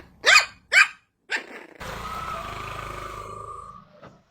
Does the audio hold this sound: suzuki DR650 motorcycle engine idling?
no